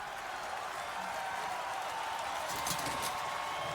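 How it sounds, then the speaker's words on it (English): A crowd applauds in the video game The Witcher 3, a steady wash of many hands clapping at moderate distance, fairly faint beneath game ambience. "Fight ain't over. Why are you clapping?"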